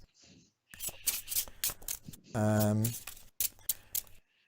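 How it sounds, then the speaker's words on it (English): A deck of game cards from a fantasy board game being shuffled in several quick riffling bursts, with a louder, sustained riffle in the middle, close up and without speech. "So shuffle these."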